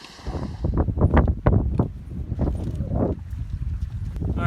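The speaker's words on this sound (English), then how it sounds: "it's a little bit windy right now" Wind gusts near a waterfall buffet the microphone in uneven, loud bursts, strongest early on and then easing into a lower steady blow.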